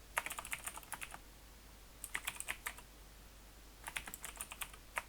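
Keys clatter on a computer keyboard in three quick bursts of close typing separated by short pauses, with no voices over the steady room hum.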